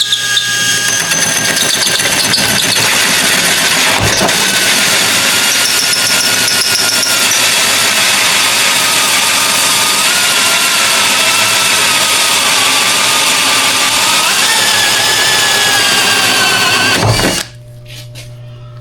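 A power drill whines loudly and steadily for a long stretch, boring slowly through jet ski fiberglass, its pitch shifting slightly, then stops suddenly.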